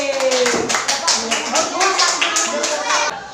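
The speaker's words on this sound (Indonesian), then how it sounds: "Tepuk tangan buat Faye." A group of children clap for a classmate named Faye in a classroom lesson on coming of age, the claps scattered and uneven over a few seconds with faint voices mixed in.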